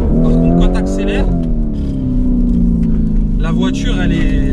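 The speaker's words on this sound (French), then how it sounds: "Par contre, quand tu accélères," A Lamborghini Urus SUV fitted with a Mansory kit revs hard, its exhaust note rising and falling in loud, harmonic sweeps close by.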